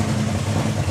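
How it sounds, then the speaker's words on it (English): Colin Miller's drag racing car engine runs loud and close at a drag racing event, a dense, continuous rumble with no pauses over the brief moment. "we couldn't hear him because we had Colin Miller's engine running"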